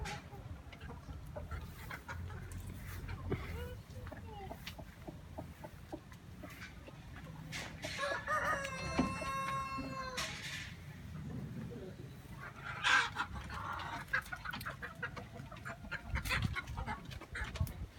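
Chickens cluck and squawk in a village yard, with intermittent bird calls mixed with people talking and moving about throughout.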